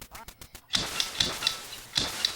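Ducks quacking in the NES game Duck Hunt, a run of short, bright electronic quacks repeating at a steady rhythm after a brief burst of game noise, loud and with no talk over them.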